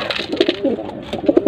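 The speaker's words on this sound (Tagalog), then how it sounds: "Hapon na tayo magpakain mga kalapatids." Pigeons coo at afternoon feeding time, close by: several soft, rounded coos in quick succession, with brief pauses between the phrases and little other sound around them.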